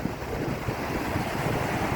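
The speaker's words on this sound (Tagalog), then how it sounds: "Pag malakas ang alon, yung ganyan, no?" Sea waves slosh and roll around a small fishing boat in rough water, a steady broad wash with wind buffeting the microphone throughout, no voices.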